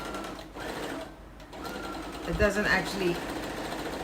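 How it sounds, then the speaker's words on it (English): Sewing machine top stitching along both sides of a small seam on a roll-up bag, a soft mechanical whir running under a voice as she explains. "So I'm just doing a top stitch on either side of this little seam."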